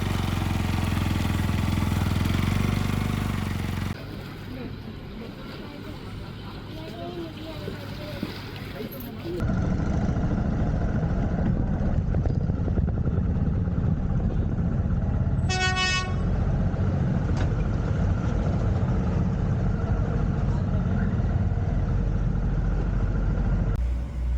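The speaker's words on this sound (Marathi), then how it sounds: "बाईक फेरीमध्ये चढवली आणि पुढचे 15 मिनिट या बोट राईडचा आनंद घेतला." A motorcycle is ridden aboard a ferry at Jaigad jetty near Ratnagiri, with a steady engine and water-craft rumble throughout and one short horn toot partway through.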